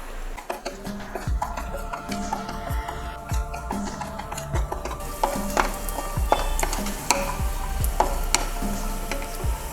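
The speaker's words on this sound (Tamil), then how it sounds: "இப்போ இதில் முந்திரியை போட்டு வறுத்து எடுத்துடலாம்" Cashews roasting in ghee in a kadai, a steady sizzle with frequent scraping and clinks from stirring, fairly close and with no talking.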